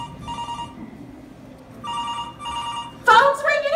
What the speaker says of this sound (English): Phone's ringing, Harry!